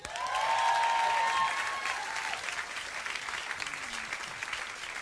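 A concert audience breaks into applause, swelling loud at first with cheering voices, then settling into steady lighter clapping that carries on to the end.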